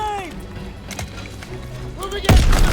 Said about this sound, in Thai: ระเบิดข้างหลัง ระเบิดข้างหลัง